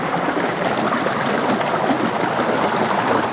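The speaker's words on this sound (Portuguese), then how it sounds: "esse som é um bom sinal de que tem água" A strong mountain stream rushes steadily beside a trail on Pedra da Mina in São Paulo state, a close, even roar of flowing water with no voices.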